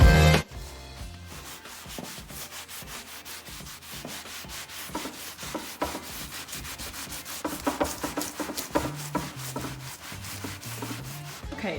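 Antiquing wax is rubbed by hand onto chalk-painted wooden furniture, giving steady brisk scrubbing strokes that are close and fairly loud, with no talking.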